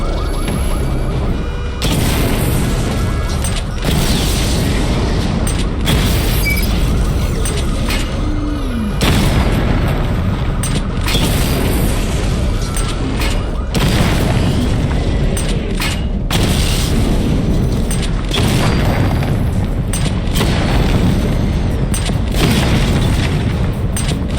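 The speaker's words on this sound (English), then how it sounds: "Charge the missile barrage to level 2 to destroy up to 4 targets at once." Missile barrage explosions in the video game Batman Arkham Knight boom repeatedly in heavy, rumbling bursts, one after another over a continuous loud roar of combat.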